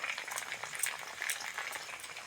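Taro, potato and onion fry in a pan with tomato, green chili and ginger-garlic paste, giving a steady, close crackling sizzle with bursts of spatter that runs throughout and has no talk over it.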